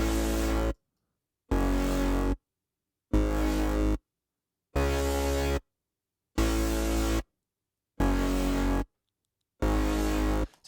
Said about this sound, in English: So you can really hear a lot is happening from that drive being changed from the LFO.